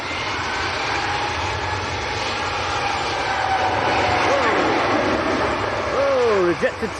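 An Air France A220 airliner's engines roar steadily at Manchester Airport during a rejected takeoff in crosswinds, building in loudness and then changing pitch near the end, heard from a distance outdoors.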